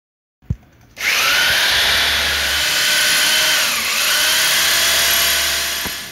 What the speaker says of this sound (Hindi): ये जो हमने रैक्स मंगाए हैं ये हम दीवार पे लगा दें। ओके सही है, तो ड्रिल मशीन आ रही है